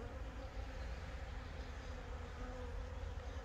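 Honey bees buzz around an open, full hive in a mating apiary, forming a dense, steady hum that is faint and continuous, with no talk.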